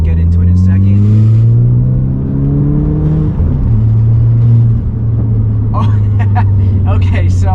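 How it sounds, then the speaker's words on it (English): An ECU-tuned Volkswagen MK7 GTI pulls hard on a back road, its engine note climbing steadily in pitch through a gear, then dropping and settling into a lower droning hum, heard loud from inside the cabin while a voice speaks briefly near the end. "So this is going to be on this little back road here, my first pull in the car"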